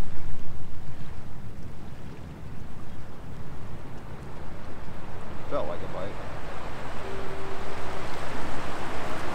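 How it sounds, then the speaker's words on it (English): Ocean waves surge over rocks along the shore during a fishing trip, a continuous rolling wash with wind buffeting the microphone, while someone speaks briefly over it. "hear that surge. It's the waves going over the rocks."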